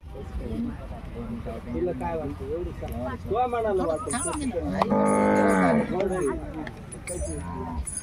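Dangi cattle moo nearby at an agricultural cattle show, a series of long, low, drawn-out calls, one after another, over a noisy outdoor background.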